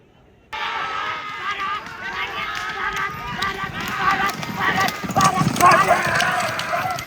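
Bulls pulling carts in a village bullock cart race pound past, a rapid drumming of hooves that grows louder and closer, with crowd noise and shouting voices around them.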